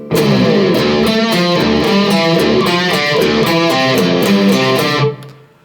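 An electric guitar plays a riff in drop D tuning, a loud, distorted, rhythmic pattern of repeated chugging chords that stops sharply near the end and leaves a short ringing decay.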